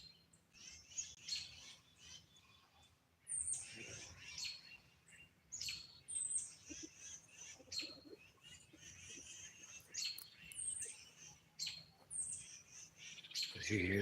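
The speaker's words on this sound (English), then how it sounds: "all you can hear is some birds, a couple chickens" Birds chirp and tweet repeatedly outdoors on a homestead, with sharp calls scattered across the scene and a couple of chickens clucking low in the background.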